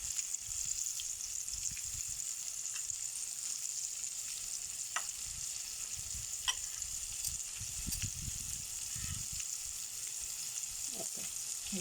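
Milkfish (bangus) with egg frying in a pan: continuous bright oil sizzle with scattered pops and spatters, close and steady, with occasional stirring clatter and no talk.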